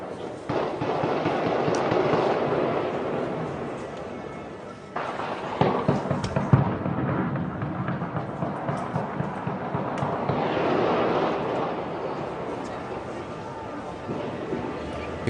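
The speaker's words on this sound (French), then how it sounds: "Là, vous entendez des explosions," Explosions and gunfire during a police assault sound from a distance, with sharp cracks and dull booms scattered through a steady background rush, while a person speaks over them.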